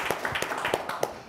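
A small audience claps at a construction symposium: scattered, uneven handclaps, fairly close and brief, with no voices over them.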